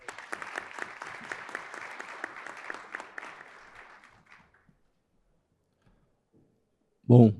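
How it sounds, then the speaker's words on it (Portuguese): A conference audience applauds steadily for several seconds, then the clapping fades out into near silence before a brief loud thump at the end. "Uma salva de palmas, por favor"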